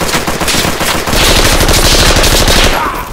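Loud, rapid machine gun fire in the World War 2 video game Project Reality on Omaha Beach rattles continuously in a dense burst, close and sustained, with a brief shift in intensity partway through.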